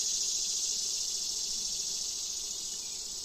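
A dense mass of honey bees on a hive frame makes a continuous soft hum, unchanging and fairly faint, with nobody speaking.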